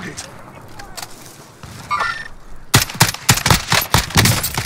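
Gunfire in the Warzone video game: after a quiet stretch, several sharp, loud bursts of shots ring out in quick succession. The firing is close and comes in an irregular rhythm, with players' voices talking under it.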